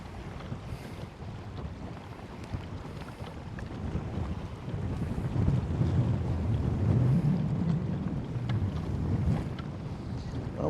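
Strong wind buffets the microphone on open water around a Hobie PA 14 pedal kayak, a steady low roar that swells louder midway and stays loud, with no talk.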